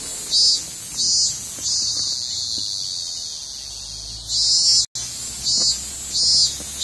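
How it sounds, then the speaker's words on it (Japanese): Cicadas sing outdoors in loud, pulsing high-pitched bursts that swell and fade in a repeating rhythm over a constant shrill background drone, with no voices. "セミが鳴いてます。"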